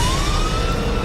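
A police car siren wails during a traffic pursuit, a loud, steady rising tone over road rumble in a brief stretch.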